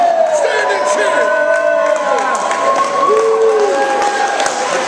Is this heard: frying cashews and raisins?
no